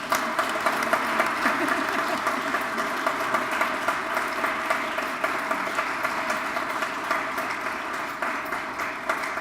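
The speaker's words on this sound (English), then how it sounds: "let's give a big round of applause for Linda Austin." Sustained applause from a crowd, a dense steady patter of many hands clapping that holds at an even level throughout without voices over it.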